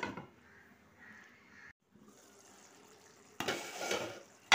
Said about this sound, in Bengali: মাংসটা ফুটছে।